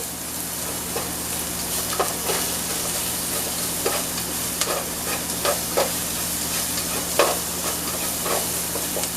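Sausage sizzles in a pan with a steady, close frying hiss, broken by light scraping and stirring clicks scattered throughout, with no talk.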